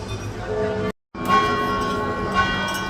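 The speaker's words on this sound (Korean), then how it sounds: "지금 조토의 그 종탑에서 울려 퍼지는 종소리 피렌체 시내에서 다 들을 수 있을 것 같네요" Church bells ring at noon from Giotto's bell tower in Florence, a sustained metallic ringing with overlapping tones that continues loud and steady after a brief cut.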